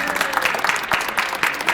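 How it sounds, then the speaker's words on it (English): Audience applause greets an honorary Duckmaster at the Peabody ceremony, a brief burst of uneven clapping from a modest crowd with a few sharper individual claps standing out. "if you would please give a warm round of applause to Miss Joyce Klein"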